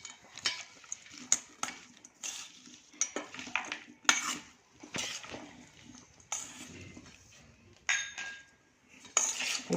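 A spoon stirs a sprout salad in a bowl, giving repeated clinking, scraping strokes in an irregular rhythm, close and moderately loud, with no talk.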